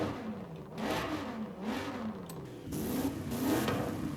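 A Cadillac race car in Forza Horizon 5 revs its engine repeatedly, the pitch climbing and falling in waves with a rough mid-range growl, heard close and alone.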